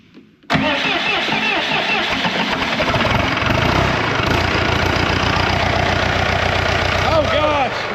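A freshened-up 4BT Cummins diesel engine, going into a Ford Bronco, cranks briefly and then catches, settling into a loud, steady, clattering run close by, with people talking over it.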